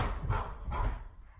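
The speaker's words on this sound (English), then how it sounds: "My dog is going nuts" A dog barks twice in quick succession over a low background murmur, the yips fairly close and moderately loud.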